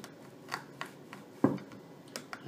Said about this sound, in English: And then I take an X-Acto knife and I basically just